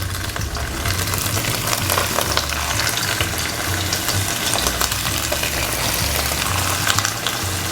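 Meat pieces placed sage side down sizzle and fry steadily in a hot pan, a continuous crackling hiss at even loudness with low rumbling underneath throughout.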